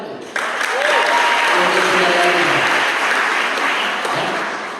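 A congregation applauds during a church anniversary worship service, a dense, loud burst of clapping that starts abruptly and holds steady before gradually thinning out.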